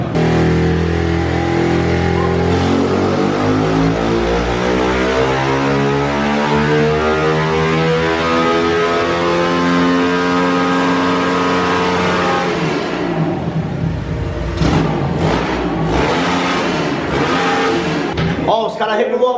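A Honda Titan 150 motorcycle with a 70mm bore kit runs on a dynamometer, its engine revving loud and continuously as the pitch climbs steadily through the gears before dropping off with choppy bursts near the end.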